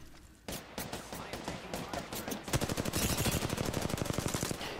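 Rapid automatic gunfire in the video game Apex Legends, loud and close, opening with a few scattered bursts and then a dense, sustained stream of shots with no talking over it.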